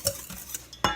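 A whisk stirs dry chocolate cake ingredients and salt in a bowl with a few brief, close, quiet scraping taps, the last one the loudest.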